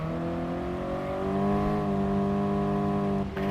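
Race car engines in Gran Turismo Sport drone with a steady, sustained tonal whine that climbs slightly as the revs build, loud and up close, ending with a brief drop near the end.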